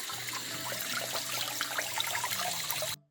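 Water rinsing out an exposed screen-printing screen, a steady close spray and splashing trickle that stops abruptly near the end.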